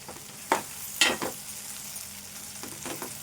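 Okra pieces frying in a pan for a homestyle okra soup make a soft continuous sizzle, with sharp scraping clatters from stirring near the start and again toward the end, and no voices.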